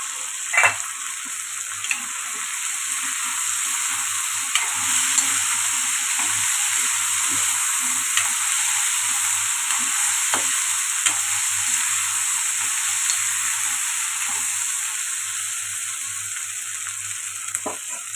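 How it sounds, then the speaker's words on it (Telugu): Masala paste fries steadily in a pan for taro root curry, a continuous close sizzle with occasional soft scrapes and pops and no voices. "ఇప్పుడు మా పేస్ట్ చూద్దాం ఇది ఇలా అయితే ఫ్రై అవుతుంది"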